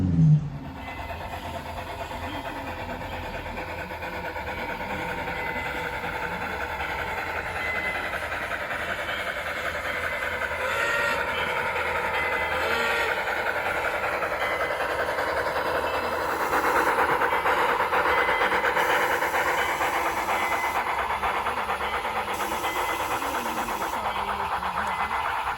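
A newly finished live steam Climax locomotive works along a log branch line, giving a steady rumbling run with faint clicking over rail joints that grows slightly louder toward the end, with no talking.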